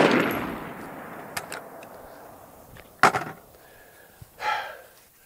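An AR-15 rifle with a VKTR Industries bolt carrier group fires a few sharp, loud shots with ringing tails, spaced irregularly outdoors, fading between reports.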